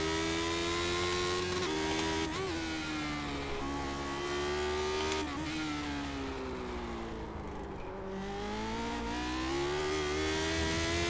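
A Lotus 79 race car in the iRacing game drives with a loud, continuous engine drone whose pitch rises and falls as it brakes and accelerates, alone without talk.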